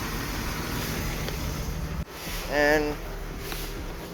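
A 1995 BMW E36 320i engine idles with a suspected coil pack fault, a steady close rumble for two seconds, then dipping and wavering while someone talks over it.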